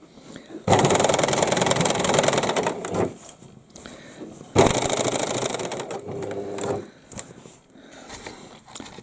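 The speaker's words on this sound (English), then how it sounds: "I'm going to sew all the way around the whole hat" A sewing machine stitches around the edge of a hat in two long whirring runs, each separated by a pause with quiet handling sounds, near and fairly loud.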